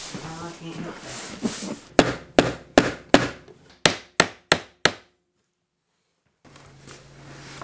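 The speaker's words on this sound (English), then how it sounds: "I'm nailing it in place" Hammer striking nails into wooden baseboard trim molding during a mobile home remodel: eight sharp, evenly spaced knocks close by, following a stretch of talk, then silence and a low hum.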